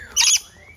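A single short, bright parrot squawk at Parrot Mountain, a bird garden, sounding loud and close and lasting only a moment before quieter background takes over.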